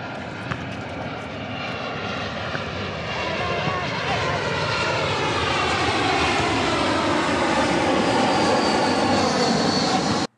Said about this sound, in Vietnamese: Ở dưới đá banh, trên trời máy bay bay.